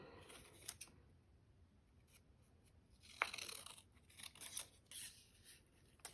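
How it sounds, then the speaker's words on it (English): Scissors snip through a sheet of paper to cut out a small triangular turkey beak for a handprint craft, a few quiet, close crisp snips and rustles with no talking. "I'm just going to cut his beak out."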